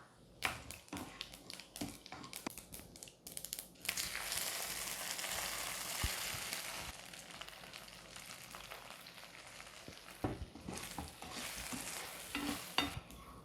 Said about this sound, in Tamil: கடுகு வெடிக்கிறது